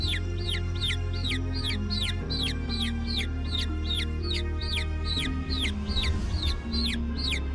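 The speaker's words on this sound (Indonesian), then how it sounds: "sebutir telur itu menetas dan muncul seekor anak ayam" A newly hatched chick peeps in rapid, evenly spaced high chirps, about two each second, close and clear over a low steady hum.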